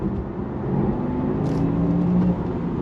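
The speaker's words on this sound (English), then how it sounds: "There's that 2-speed gearbox doing its thing." A 2025 Porsche Taycan 4 Cross Turismo pulls hard on throttle with a low electric whir and road rumble, a rising tone briefly stepping as its 2-speed gearbox shifts, heard from inside the cabin.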